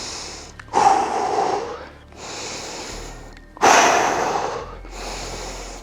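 Heavy breathing after a muscle-building workout, two long loud exhales about three seconds apart, each tapering off, with quieter breaths in between.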